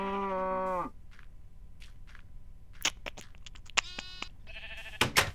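Minecraft cow giving a single synthetic moo at the start, followed by sparse game clicks, footsteps and short effect sounds in a quiet scene.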